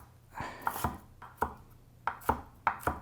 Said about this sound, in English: We're just gonna cut them in thin slices.